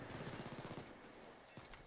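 Gunfire in Payday 2 during an airport heist: a quick burst of rapid shots in the first half, followed by a lone later shot, all over steady game background noise.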